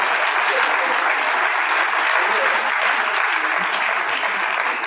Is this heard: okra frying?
no